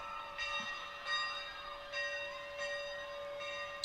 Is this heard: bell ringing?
yes